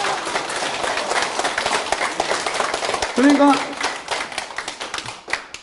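A crowd claps at a Korean political talk gathering, a dense burst of hand claps with a speaking voice running over it throughout.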